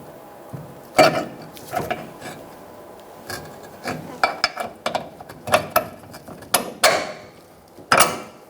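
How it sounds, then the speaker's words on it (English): Bolt being fitted by hand into the mount of a rear air shock on a 2014-2018 Chevrolet Silverado 1500, with irregular close metallic scraping, ratcheting clicks and rubbing knocks in short bursts, no talking. "Install the bolt and get it started."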